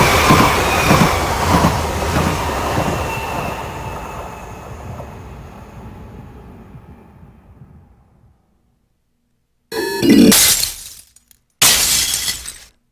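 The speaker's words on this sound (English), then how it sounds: "A train passing by." Train passing by in the video game Payday 2, loud rumbling rail noise that gradually fades to silence, followed by two sharp bursts of glass shattering.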